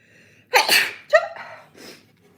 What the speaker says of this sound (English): And I need to sneeze.